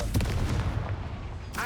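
Confringo blasting spell in Hogwarts Legacy erupting in a small mine, a heavy booming blast with a rumbling low tail lasting over a second, followed by a brief new sound at the end.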